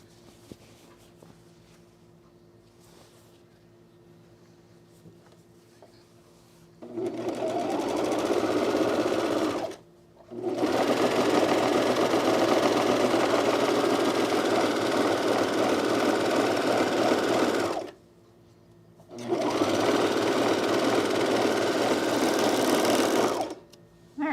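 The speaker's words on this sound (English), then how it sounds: "let's sew our other pocket to it" Sewing machine stitching a pocket onto a jumpsuit, running in three long steady bursts of rapid stitching, each several seconds, separated by brief pauses of low room hum.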